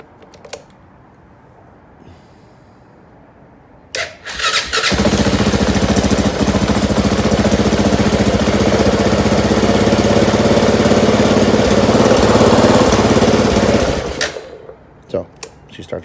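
A Honda Rubicon ATV engine cranks and fires on the first press of the start button, then holds a loud, steady idle for about ten seconds before cutting off. A few brief knocks and clicks come before and after.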